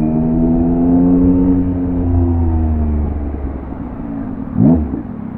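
A 2022 Yamaha MT-09 motorcycle engine runs loud and close with a strong steady drone, its pitch easing slightly before a brief sharp rev near the end.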